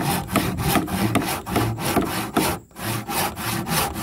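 A handsaw cuts through a wooden post during house construction, with loud, close rhythmic back-and-forth strokes at an even pace and a brief pause partway through.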